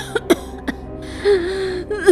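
A girl coughs heavily in a Hindi horror story: several sharp, close coughs with a throat-clearing rasp, followed by a strained, wheezy voiced breath.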